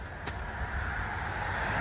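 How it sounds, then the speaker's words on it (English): A car passes on a road right beside a rural wild camping spot in Lincolnshire, a steady near engine and tyre rush swelling slightly over the whole stretch, heard alone without talk. "You can hear there's a road right next door"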